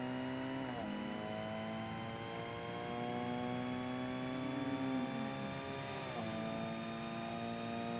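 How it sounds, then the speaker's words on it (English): Race car engines in the video game Forza Motorsport hold a steady, droning pitch, with two clear downshift drops in tone as the cars slow for braking zones, and quieter cars hum in the background. "You can still hear the cars on the other side."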